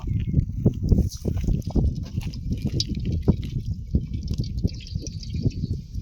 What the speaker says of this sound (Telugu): ఇప్పుడు వచ్చేసి వాటర్ అయితే పోయేస్తున్నాం అనమాట